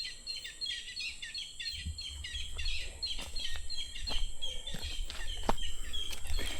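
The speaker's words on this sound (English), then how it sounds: "You can hear the birds, they're just chirping away like crazy" Many birds chirp and tweet in quick, overlapping bursts in the evening countryside near Balilihan, Bohol, lively and close, with a few sharp clicks scattered through the chorus.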